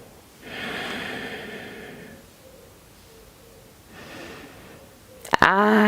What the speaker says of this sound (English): Two more breaths here.